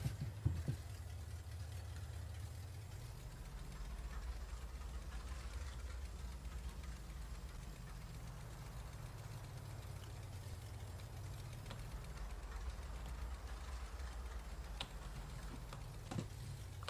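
A truck engine in Farming Simulator 22 runs steadily at a low, even idle for the whole stretch, with a faint ticking on top and a few light clicks near the end, no talking.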